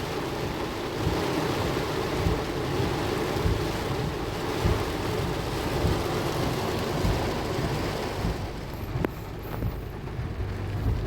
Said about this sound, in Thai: ฝนเนี่ยตกมา